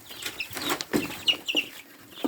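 Several hens cluck and chatter close by in short, uneven bursts, with a few higher squawks mixed in.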